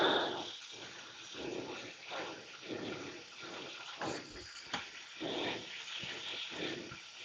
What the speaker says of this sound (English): Did you hear the dogs? They're beautiful dogs.